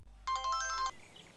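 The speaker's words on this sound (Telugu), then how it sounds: "మన బుర్ర తినడానికి ఫోన్ చేస్తున్నాడు" A phone ringtone plays one short burst of bright electronic tones announcing an incoming call, moderately loud and then stopping abruptly, with only faint room noise around it.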